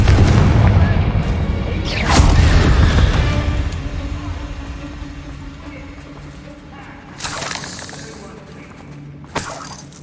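A Confringo blasting spell explodes in the video game Hogwarts Legacy, a loud booming burst at the start, then a shattering crash, with rumbling debris trailing off and a few sharper impacts later.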